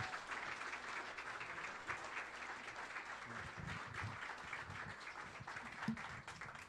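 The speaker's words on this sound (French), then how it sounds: "on peut l'applaudir pendant qu'il parle s'il vous plaît" Audience applause at a science and fiction presentation event, a sustained, fairly faint patter of clapping from a crowd with no talk.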